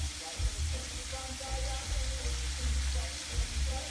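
Peppers sizzle steadily in hot oil on a low simmer heat for Jamaican escovitch fish, a soft continuous crackle with a low hum underneath, close and even throughout.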